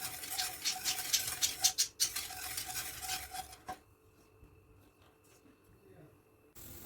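Stirring and scraping as sugar and cold water are mixed in a pot for baklava syrup, busy clatter for a few seconds, then it quiets to a faint hum before a soft noise returns.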